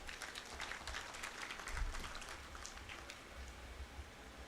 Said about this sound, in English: A round of applause for the judge.